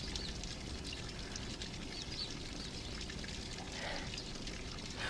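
Water runs from a water hose, a faint continuous splashing hiss with no clear pauses, steady and low in level.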